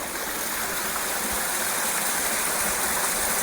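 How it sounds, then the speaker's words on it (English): Water flows in a babbling brook beside a river on a marsh trail, a steady broadband rush with no breaks, moderately near and continuous throughout. "Something about the sound of that water."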